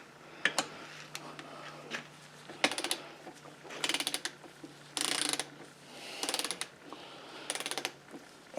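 A torque wrench set to 200 inch-pounds tightening a bolt on a Kohler Command V-twin engine, several short bursts of close ratcheting clicks separated by pauses, with faint background hum.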